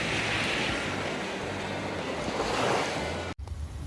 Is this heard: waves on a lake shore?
yes